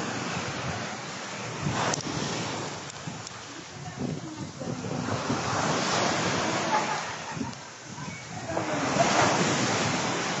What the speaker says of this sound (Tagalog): nagwawala yung alon sa likuran ko